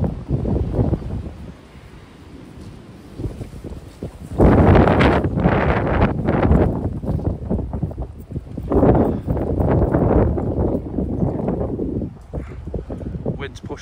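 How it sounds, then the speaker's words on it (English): Strong wind gusts buffet the microphone at a lakeside fishing swim on a day-ticket carp lake, rising into loud roaring bursts and easing between them, with people talking underneath throughout. "Wind's pushing right into us today."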